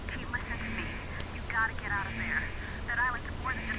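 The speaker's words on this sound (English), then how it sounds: "And the phone will occasionally ring." A telephone rings in a video game, warbling trilled bursts repeating at a moderate level under a low droning background, with someone talking over it.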